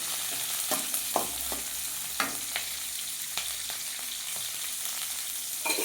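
Onions and green chilies frying in oil for tomato chutney, a steady close sizzle broken by repeated sharp scrapes and clicks of stirring, with no voices.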